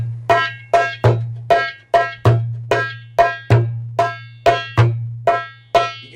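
A hand drum plays a fast Malfoof rhythm, about a dozen crisp, evenly spaced strokes, each ringing briefly and decaying, close and alone over a faint steady hum.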